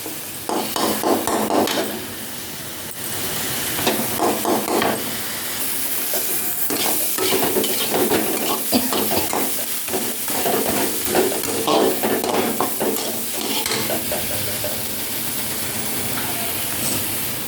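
Ginger and garlic paste going into a hot pan of oil with spices for a Bengali fish paturi, sizzling and frying steadily with stirring scrapes throughout, fairly loud and close, with no talk.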